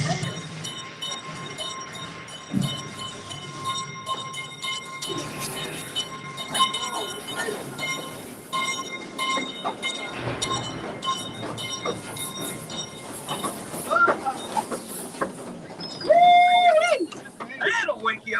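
A theme park mine train ride rolls by at the Calico mine, with rumbling rail noise, clanking cars and a brief wheel squeal near the end, heard under a busy crowd and show voices.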